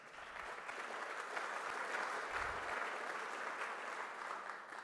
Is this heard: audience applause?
yes